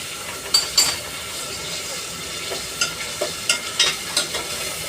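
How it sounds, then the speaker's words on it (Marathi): Onion-garlic masala stirred in a frying pan, a soft continuous sizzle punctuated by several sharp spoon scrapes and clinks against the pan, close and moderately loud. "आता याला छान असं मिक्स करून घ्यायचं आहे आपल्याला."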